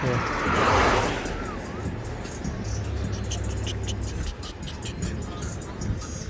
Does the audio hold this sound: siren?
no